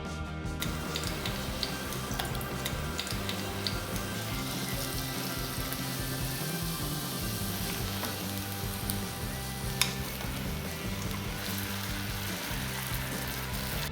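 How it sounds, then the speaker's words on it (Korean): Sliced king oyster mushrooms fry in two tablespoons of cooking oil in a pan over low heat, giving a steady close crackling sizzle that runs unbroken throughout, with a faint rhythmic stirring or ticking texture and no talking. "프라이팬에 식용유 2테이블스푼을 넣고 버섯을 구워주세요."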